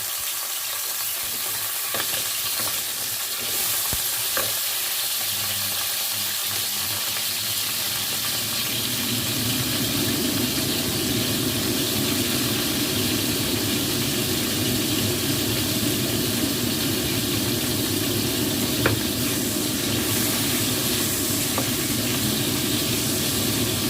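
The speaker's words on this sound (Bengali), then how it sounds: "সাদা তেল দিয়ে আগে পটলটা ভেজে নেব একটু" Sliced pointed gourd fries in white oil in a home kitchen pan, a continuous loud sizzle and hiss that thickens partway through with stirring noises, no voices.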